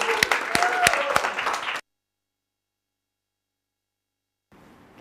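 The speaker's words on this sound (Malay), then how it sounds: "Bagilah Tepukan" Applause from a Malaysian secondary-school history class greets a student presenter: a dense burst of many hands clapping close by, which stops abruptly and gives way to silence, then a faint murmur.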